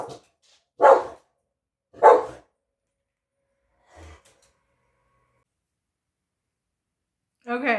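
Dogs bark in a home, giving two short, loud barks close together, a faint third sound after a pause, and then a voice speaking.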